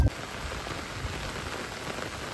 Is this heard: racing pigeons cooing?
no